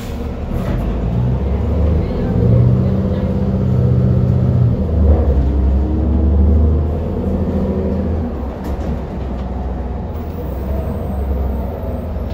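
Interior of a 2012 New Flyer C40LF city bus on an MTA New York City route, its low engine rumble and road noise droning steadily as it drives, swelling and easing with acceleration, with a brief air hiss near the end.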